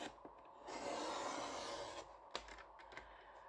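Paper card being scored for a gift box, a close, soft scraping rub lasting a couple of seconds, followed by a few light taps and scratches, quiet and with no talk.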